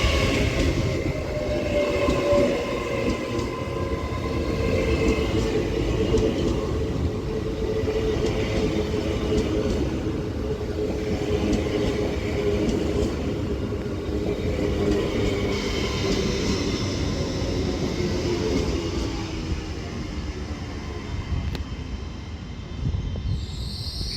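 Avanti West Coast train 807002 arriving at Runcorn on the Liverpool branch of the West Coast Main Line, a steady loud rumble of wheels and traction with a faint squeal as it slows, continuous throughout with no voices.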